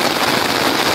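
Steady rain falls in a desert area in Tamil Nadu, a dense, even hiss of drops hitting the ground that fills the whole second with no gaps and no voices.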